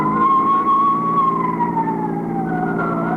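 An ambulance siren from a 1953 police radio drama wails steadily, its pitch sliding slowly downward, loud and close with no talking.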